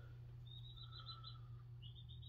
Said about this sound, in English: If you hear tweeting in the background, I do have some baby chickens in here.